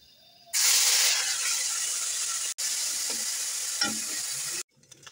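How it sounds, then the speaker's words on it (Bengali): Spiced kechki fish dropped into hot oil in a wok, a sudden loud sizzle that holds steady for about four seconds with a brief break and a light clatter of stirring, then cuts off. "মশলা মিশানো কেসকি মাছগুলো কড়াইতে দিয়ে দিব।"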